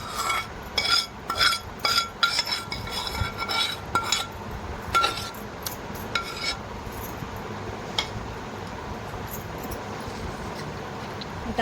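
A spoon clinks and scrapes against a bowl while cooled tempering is mixed into gongura chutney, with sharp metallic taps early that give way to quieter, duller stirring and rubbing.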